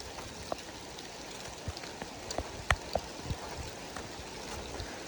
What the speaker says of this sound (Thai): ฝนตกลายพี่น้องเอ้ย ตกลายแล้วพี่น้องเอ้ย